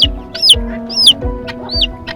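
Silkie chickens cluck loudly and close by in a quick series of short, sharp calls repeating roughly every half second, with no voices present.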